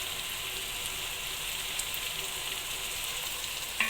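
Chopped onions fry in hot oil in a pan while being stirred, a steady close sizzle with a few soft scrapes of the spoon and no voices.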